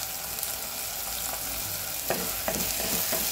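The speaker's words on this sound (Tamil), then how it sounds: "எண்ணெய் காஞ்சி வச்சு கடுகு போட்டேன், பூண்டை போட்டேன், வெங்காயத்தை போட்டேன், கருவேப்பிலையை போட்டேன்" Onions, garlic, mustard seeds and curry leaves sizzle steadily in hot oil for a Tamil dry-fish kuzhambu, with a few sharp stirring scrapes of a spoon against the pan near the end.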